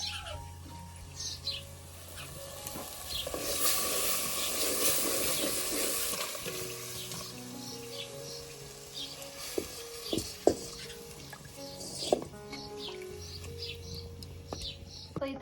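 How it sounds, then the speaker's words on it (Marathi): A pot of spicy village-style black chicken rassa curry boils on the stove, giving a soft simmering hiss with scattered bubbling pops and small sharp clicks that grow sparser toward the end. "आपली भाजीला उकळी आलेली आहे"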